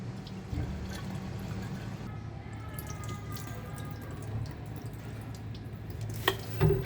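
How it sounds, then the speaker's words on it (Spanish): Water pours steadily into a water pump's front tank and pipe with a faint trickling and dripping, low and fairly quiet, ending with a few louder splashy knocks. "Le colocamos agua hasta que se llene todo el tanque frontal y la tubería"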